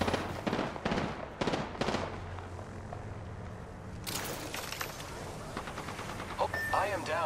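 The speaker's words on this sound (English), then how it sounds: "The enemies are shooting at me." Enemy gunfire in Apex Legends, with rapid bursts of automatic shots in close, loud volleys and further cracks and impacts trailing later among game effects.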